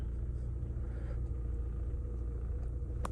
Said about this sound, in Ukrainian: Автомобіль заводиться гарно, працює рівно ніяких чеків та помилок не горить